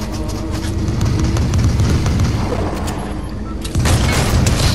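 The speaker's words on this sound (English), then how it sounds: "Why is everyone shooting at me?" Dense, loud battle noise from a Fortnite match, with continuous rumbling gunfire and booms layered over one another and a sharper burst near the end, plus faint voice in the mix.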